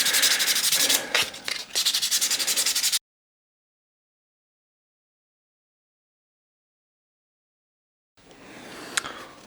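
Sandpaper rubbed over a 3D printed shark in rapid back-and-forth strokes, close and scratchy, then silence, followed by a short, softer burst of sanding.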